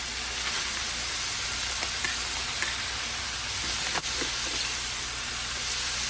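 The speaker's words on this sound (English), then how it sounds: "I'm gonna stir fry this for a couple minutes" Onions, peppers and garlic stir-fry for Thai basil beef in a hot pan, a steady loud sizzle running throughout with a few soft scrapes of stirring.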